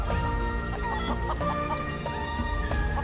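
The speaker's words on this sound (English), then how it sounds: "So we just need to catch your chickens, right?" Chickens in the video game Final Fantasy VII Rebirth cluck in quick, scattered bursts over a steady musical backdrop, with no talking.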